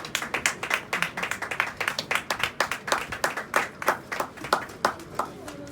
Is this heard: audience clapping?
yes